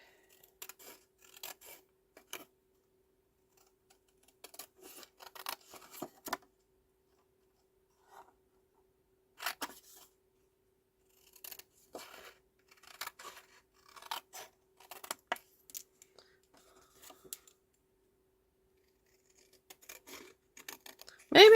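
Scissors cut out a stamped floral card in short, quiet, close bursts of snipping separated by pauses.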